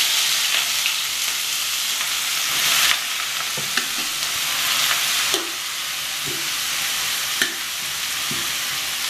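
Radishes frying in a pan with two dried red chillies and green chillies: a steady, close crackling sizzle with occasional stirring knocks and scrapes, no talk.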